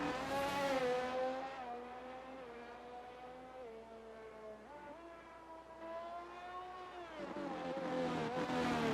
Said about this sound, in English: The only car on track right now, he's not going to improve